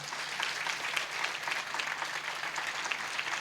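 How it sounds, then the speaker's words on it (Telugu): A church congregation claps their hands together in a dense, sustained round of applause that fills the room evenly, moderately loud and without speech. "చప్పట్లు కొట్టండి విశ్వసించేవాళ్ళు"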